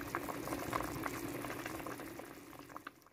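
A pot of Korean seaweed soup with beef brisket boils steadily, its bubbling and popping close and continuous at first, then gradually quieter toward the end.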